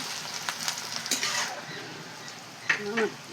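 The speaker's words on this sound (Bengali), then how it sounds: "পেঁয়াজটাকে লাল লাল করে ভেজে নেবো" Onions frying in a pan toward a reddish brown, a close continuous sizzle with occasional stirring scrapes and clinks, moderately quiet and steady.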